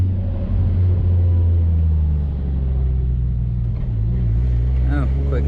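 Car idling and rumbling with a steady low engine drone as a lap around the block begins after an O2 sensor replacement; a loud continuous hum with a slight rise near the end.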